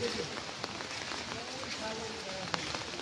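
Heavy rain falls in Noakhali, Bangladesh, making a constant soft hiss and patter on surfaces with a few sharper drop hits, fairly quiet and even throughout.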